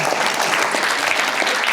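Audience at a motivational talk breaking into applause, a dense, steady wash of many hands clapping, loud and sustained throughout with no voices standing out.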